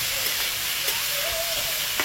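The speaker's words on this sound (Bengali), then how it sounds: "এটাকে ভালো করে ভেজে নিতে হবে।" Soya mince frying in a pan for kima soya rice, with potatoes and carrots mixed in, giving a steady close sizzle and hiss with faint stirring scrapes and no talk.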